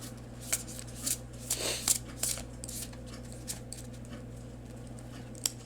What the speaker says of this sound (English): Let's do a more shuffly shuffle.